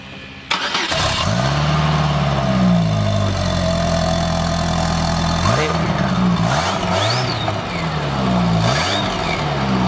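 A turbocharged Chevy S10 pickup cranks and catches, then runs with a loud, steady rumble whose pitch dips and swells through a few blips of the throttle; people talk briefly over it.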